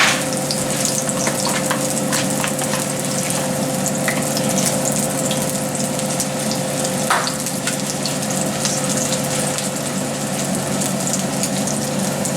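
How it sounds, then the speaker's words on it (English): Steady, dense sizzling and crackling of fritters frying in hot oil in a cast iron skillet, close up and continuous, with faint pops and no voices. "The cast iron skillet sizzles and pops as she drops the fritters in"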